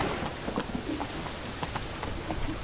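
Steady rain in The Witcher 3: Wild Hunt patters on a surface, a dense hiss with scattered droplet taps throughout.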